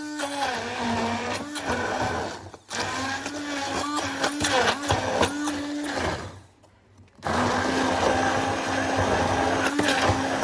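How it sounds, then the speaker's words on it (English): A blender whirs loudly as it purees vegetables and fresh onions for a pork pepper soup, running in steady bursts with a short pause near the middle before starting up again. "Let's go ahead and blend our vegetables."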